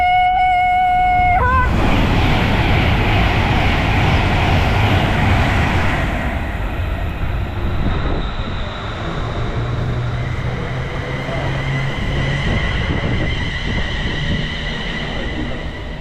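An Avanti passenger train on the West Coast Main Line roars past close by at Milton Keynes Central, a loud continuous rumble and rush of wheels, with a brief horn at the start and a whining squeal fading.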